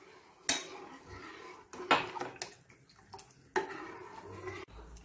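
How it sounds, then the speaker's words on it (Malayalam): A spoon stirs milk into a pot of homemade mixed vegetable soup, making a few distinct metallic scrapes and knocks against the pot with soft liquid sloshing between them, close and fairly quiet. "പാൽ ചേർത്ത് നല്ലോണം മിക്സ് ചെയ്ത് യോജിപ്പിക്കുക"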